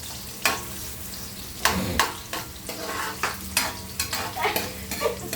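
Ginger and onion sautéing in a hot pan, a crackling sizzle punctuated by repeated sharp scrapes and clanks of a utensil against the metal every second or so, close and fairly loud, no speech.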